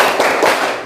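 A classroom of students does a rhythmic spirit clap, loud close hand claps packed together in a fast burst with little space between them.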